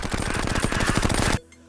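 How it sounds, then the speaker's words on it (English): The S.D.M.G. machine gun from Terraria fires a fast, continuous stream of rapid shots, loud and close, then cuts off sharply just before the end. "The S.D.M.G is one of the strongest weapons in the game, able to mow down hordes of enemies just by holding left click."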